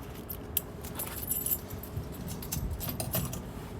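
Silver and black keys for a 2022 Jay Flight 264BH RV jangle and clink in irregular bursts, close but fairly soft, over a low background hum.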